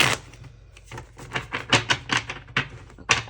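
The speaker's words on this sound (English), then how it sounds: "I'm just gonna shuffle to clear the energy a little bit" Tarot cards being shuffled close up, producing a quick series of crisp papery snaps and flicks in uneven bursts, loud against a quiet background.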